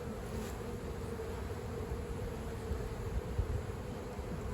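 Honeybees hum inside a hive in a steady, dense drone, a continuous close buzzing of many insects at once with no voices.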